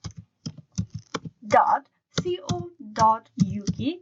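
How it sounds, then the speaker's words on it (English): Quick, close clicks of typing on a computer keyboard as a website address is entered into a browser search bar, followed by a voice talking. "Then on the search bar, you need to type in barclays.co.uk"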